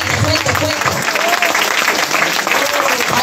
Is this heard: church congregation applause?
yes